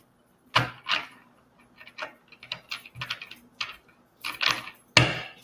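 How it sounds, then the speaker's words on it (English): Decks of cards are shuffled by hand, giving a series of short, crisp riffling and tapping bursts at irregular intervals, close and clear with quiet pauses between. "I'm shuffling up my decks and stuff."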